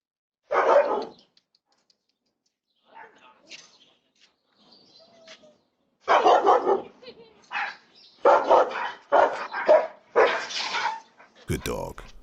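A dog barks at a woman trying to take someone's mail from a doorstep in Phoenix, Arizona, with one bark, a pause, then a rapid burst of loud close barks.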